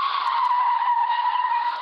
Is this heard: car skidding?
yes